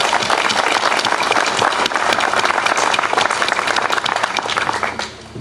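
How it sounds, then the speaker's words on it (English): A crowd at a 9/11 memorial stair climb event in Yellow Springs gives loud, sustained applause for the sponsors, a thick wash of many hands clapping that holds steady, then thins out near the end. "so big round of applause for both Jessup and Premier"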